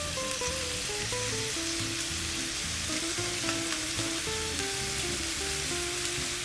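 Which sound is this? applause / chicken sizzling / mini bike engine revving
chicken sizzling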